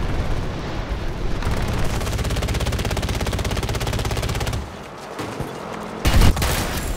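Sustained rapid gunfire from a Battlefield video game fills the first four and a half seconds at high volume, then drops away before a few sharp, loud bursts return near the end.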